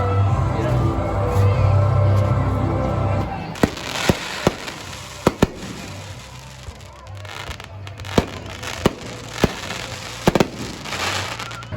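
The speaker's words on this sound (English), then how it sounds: "There's nothing more American than fireworks on the 4th of July at a rodeo." Fireworks burst at a Fourth of July rodeo, a string of sharp, loud bangs spaced a second or so apart over a murmuring crowd, following an opening stretch of steady background noise.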